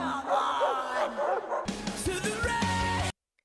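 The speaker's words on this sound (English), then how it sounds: "I hear dogs. I hear barking." Dogs bark and yip in quick bursts, several overlapping calls, fairly close, before the sound cuts off abruptly.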